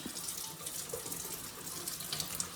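Tap water runs steadily into a sink rinsing neck bones, a continuous soft splashing rush with small gurgles, fairly close and unaccompanied.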